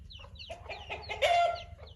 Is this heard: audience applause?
no